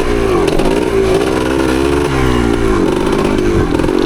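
A 1975 Yamaha DT250 two-stroke motorcycle running loud and close with oil injection, its engine note wavering and sputtering unevenly, with a faint metallic clatter throughout.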